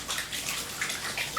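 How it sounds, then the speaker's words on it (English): Water splashing from a tap as hands are rinsed, a close, continuous light spattering with uneven little splashes throughout. "I'm gonna wash my hands off really quickly"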